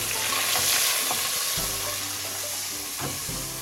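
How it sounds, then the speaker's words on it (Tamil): Sliced onions and three green chillies sautéing and being stirred in a pan, a steady close sizzle and frying hiss with a few scrapes and clinks of the stirring utensil, no voices. "இது கூடவே பச்சை மிளகாய் ஒரு 3 பச்சை மிளகாய் போட்டு வதக்கிக்கலாம்."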